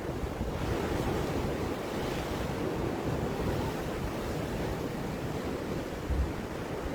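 Ocean surf crashing against rocks on Hawaii's South Shore, a steady heavy roar of breaking waves with strong wind buffeting the microphone, one swell surging a little louder near the end.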